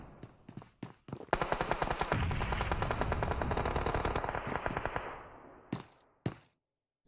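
AK rifle fire in the battle royale game PUBG Mobile: a long, loud burst of rapid automatic shots in a tight rhythm, then a few separate single cracks after it stops.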